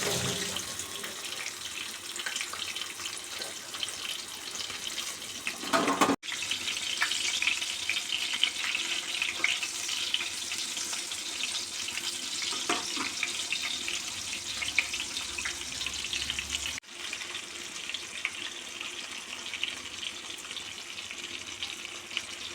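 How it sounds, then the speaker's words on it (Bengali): Battered marinated shrimp dropped into hot oil, a dense, steady sizzle and crackle of frying that runs loud and continuous, with a brief surge when the pieces go in. "এবার ম্যারিনেট করা চিংড়িগুলোকে এরকমভাবে ব্যাটারে ডুবিয়ে তেলে ছেড়ে দিতে হবে।"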